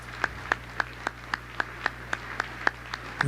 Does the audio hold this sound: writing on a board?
no